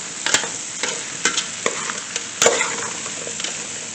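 Squash sautéing in a hot pan: a steady broadband sizzle with sharp stirring scrapes and clinks at irregular intervals, close and fairly loud, with no talking.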